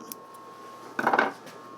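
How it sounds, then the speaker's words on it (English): A single quick snip as a small bonsai tree root is trimmed with cutters to fit a little pot, a short crisp cluster of clicks close up in an otherwise quiet setting. "The root is just a little bit long to fit into the pot, so we're going to cut it."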